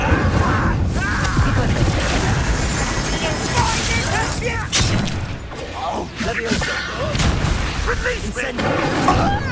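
Fire spell cast in the video game Hogwarts Legacy, a loud whooshing burst with booms and thuds amid continuous battle noise, close and intense, while voices shout over it.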